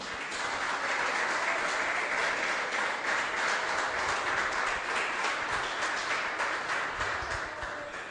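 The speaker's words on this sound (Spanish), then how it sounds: "Un aplauso para el Señor, hermano." Church congregation applauding during a service, sustained dense clapping from a large crowd in a hall, steady and moderately loud throughout, tapering slightly at the close.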